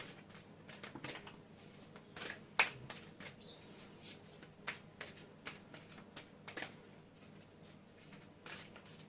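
Cards being shuffled and riffled in quick bursts of crisp flicking and slapping, close up, with no voices.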